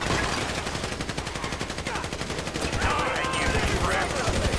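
Rapid gunfire fills a GTA 5 heist shootout, with dense overlapping automatic bursts and single shots that continue loud and unbroken, and voices are mixed in beneath the shooting.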